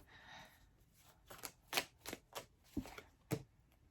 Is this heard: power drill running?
no